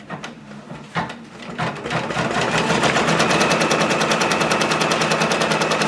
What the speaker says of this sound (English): We're going to go ahead and lock it and start it again, and it's going to do the satin stitch border.